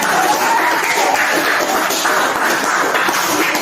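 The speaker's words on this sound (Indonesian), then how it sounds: "Mari kita tepuk tangan, kasih tepuk tangan." Students in a school group counseling session clap together for a classmate's answer, a steady, dense patter of many hands filling the room at close range for a few seconds.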